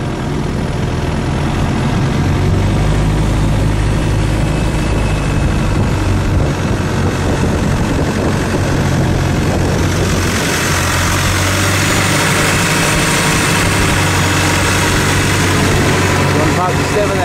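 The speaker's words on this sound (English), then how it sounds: "Just heading over to Rayavadee, this Thai longtail boat from Centara Grand." A Thai longtail boat engine drones steadily and loudly while crossing a bay in Krabi, Thailand, a constant close mechanical rumble with water and rushing air layered over it.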